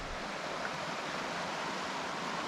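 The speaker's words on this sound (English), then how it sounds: "there's a nice river down there" A river runs through a deep ravine below a mountain campsite, a steady broadband rushing wash of water with no breaks, heard softly from a distance.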